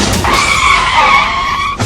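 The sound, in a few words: car skidding after sudden braking on highway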